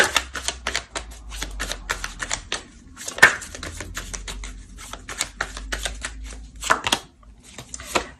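Tarot cards are shuffled and handled in quick, dense rustling taps and flicks, with a few sharper slaps as a card is pulled from the deck, close and fairly quiet.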